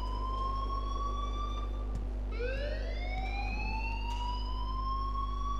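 A wailing siren-like alarm in the video game Life Is Strange, rising and falling in long sweeping tones over a steady low hum, moderately loud and continuous.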